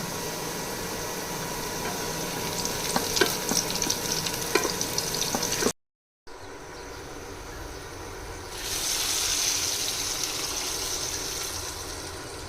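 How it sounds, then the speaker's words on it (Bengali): Onion, garlic, panch phoron and two dried chilies frying in a little oil, a dense close sizzle with scattered stirring clicks, then a brief cut to quieter, softer hissing that swells slightly near the end. "দিয়ে দিব পেঁয়াজ কুচি রসুন কুচি দিয়ে দিব কিছু পাঁচফোড়ন দিয়ে দিব শুকনো মরিচ দুইটা"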